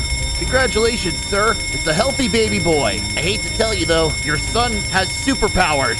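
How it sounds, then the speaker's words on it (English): A fire alarm rings steadily as a continuous high electronic tone, sounding under nonstop animated character dialogue. "that's a fire alarm"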